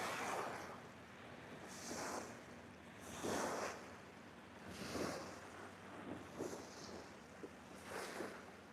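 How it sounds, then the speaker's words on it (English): Waves on open water during a fishing outing, rolling surf washing in repeated surges roughly every second or two, with steady wind buffeting the microphone and no voices. "A lot of waves today."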